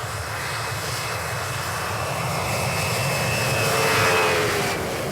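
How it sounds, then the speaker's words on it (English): Antonov An-74 jet engines roar during takeoff from a short Arctic ice runway, a loud steady rushing whine that swells slightly toward the end. "The engine's exhaust gases are blown over the top of the wings to produce extra lift, essential during takeoff on Barneo's short runway."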